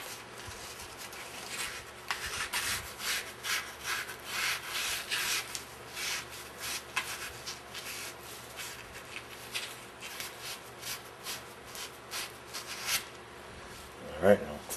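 Rust being rubbed off the bottom of a Meyer E 47 part, a dry scrubbing and scraping in quick uneven strokes, close and moderately loud, continuing throughout.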